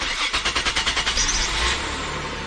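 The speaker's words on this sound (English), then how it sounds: "attempt to start the vehicle." A Nissan Maxima engine cranks with a rapid, even chugging of the starter, then catches and settles into a steady running roar after a fuel filter change, loud and close with no voices.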